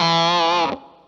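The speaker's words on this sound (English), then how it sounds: "It sounds like a tapping lick to me," A distorted electric guitar plays a brief, fast tapping lick with effects and chorus, a bright sustained sound that cuts off abruptly near the end and leaves a short reverb tail.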